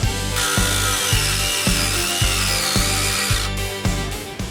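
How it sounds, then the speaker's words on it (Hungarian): An angle grinder cuts through a seized sway bar link bolt with a sheared 5 mm hex head on the front left of a Mazda. It makes a loud, steady whine with a rhythmic chatter of regular ticks, and no one speaks. "úgyhogy le kell flexelni."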